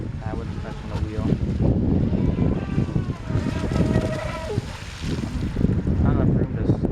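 Pro Boat Stealthwake RC boat with an upgraded brushless motor whines at rising and falling pitch on open water, under heavy wind rumble and some voices nearby.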